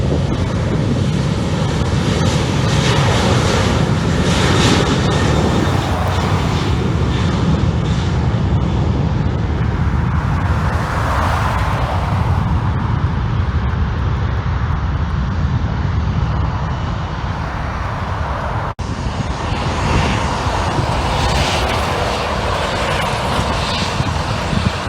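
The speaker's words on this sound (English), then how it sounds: "He's now aligning himself with the runway. And he's cleared for departure." A plane rolls down the runway and takes off near a lodge, a loud broad engine roar mixed with heavy wind buffeting on the microphone, steady throughout with no voices.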